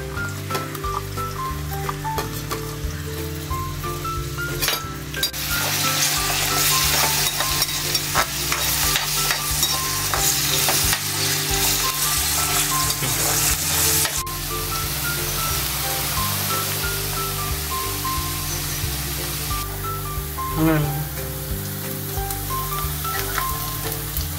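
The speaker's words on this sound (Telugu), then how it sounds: "ఇప్పుడు నేను ఉల్లిపాయలు వేసుకున్నాను" Onions for a chicken fry sizzle steadily in a hot pan while a spoon stirs and scrapes through them repeatedly, a constant crackling hiss close up with faint tonal background music underneath.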